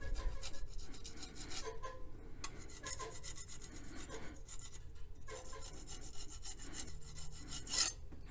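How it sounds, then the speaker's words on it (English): A metal scraper rasps head gasket material off a Toyota or Honda engine block deck in steady, close, continuous strokes, with no talking. "you get a scraper and try to scrape this off"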